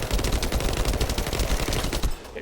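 Thunder Cage weapon fired in the video game The First Descendant, producing a dense, rapid burst of loud gunshots in quick succession that stops abruptly near the end.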